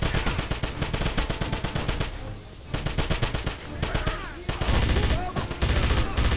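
Rapid bursts of MG-42 machine gun fire in a Wolfenstein World War II shooter, loud and close, several long volleys broken by short pauses amid battle noise.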